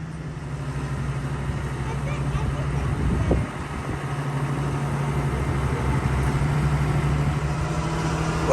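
A White 100 tractor engine runs at a steady idle at a farm auction, giving a smooth, even low hum throughout with one brief knock partway through.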